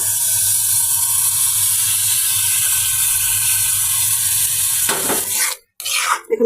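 Rohu fish roe hitting hot oil and cooked-down spices in a pan, a steady broadband sizzle that holds close and loud for about five seconds before stirring clatter and a brief drop break it up.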